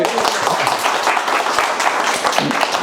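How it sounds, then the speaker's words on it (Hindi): People at a New Year gathering clap loudly together, a dense, bright burst of many hands that stays strong and even for a couple of seconds. "एक बार जोरदार ताली बजा दो भैया सब।"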